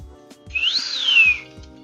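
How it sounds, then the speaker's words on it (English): A single short whistled note from a person, rising and then gently falling in pitch, heard close and clear over a quiet background with a few soft knocks. "I can't whistle well."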